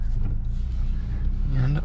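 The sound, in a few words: Infiniti QX55 driving off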